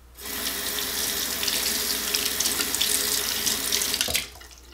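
Tap water runs steadily into a sink for about four seconds while a Sigma flat kabuki makeup brush coated with foundation is wetted, then the flow cuts off abruptly near the end; close and alone.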